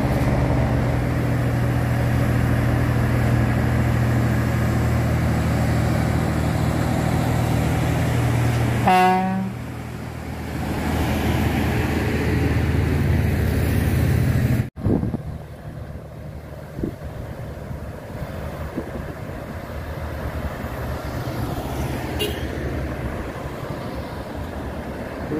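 A loaded truck, part of a 31-ton and 30-ton towing pair, reverses and labors uphill, its engine a loud continuous diesel drone with a brief rising whine, then a sudden sharp break into quieter rumbling and road noise.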